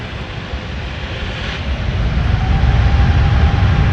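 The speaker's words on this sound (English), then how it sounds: "We just got going just in time for the SAS takeoff" An SAS airliner taking off at LAX, a steady jet roar that builds slightly in loudness as it goes, heard from a distance with broadband rushing noise and no talk.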